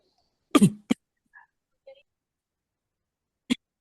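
A person imitates the barking cough of pneumonia, a repetitive short dry cough: a couple of harsh, short coughs, a few faint murmurs, then one more sharp cough after a pause.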